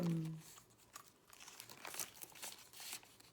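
Paper banknotes, ten-unit bills, being folded in half by hand for a small budgeting envelope: soft, close crinkling and rustling with a few sharper crackles, fairly quiet throughout.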